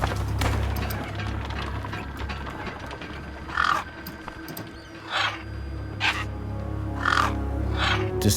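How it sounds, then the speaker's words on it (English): Gang birds, scavenger birds in the wasteland of the Beyond a Steel Sky video game, give several harsh caws in short bursts over a constant low ambient rumble. "Then, I heard them. Gang birds, scavengers"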